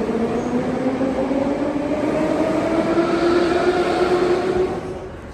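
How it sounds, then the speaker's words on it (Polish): A Tashkent metro train runs through the underground with a loud, steady roar and rising whine of its motors, then fades as it slows near the end, with no voices. "No warto się przejechać tutaj tym metrem"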